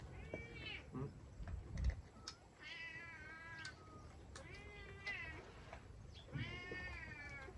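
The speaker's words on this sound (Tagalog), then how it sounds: "Yan naman yung pusa." A cat meows repeatedly in drawn-out, wavering cries, several close calls spaced a second or two apart, over faint background clatter and low room noise.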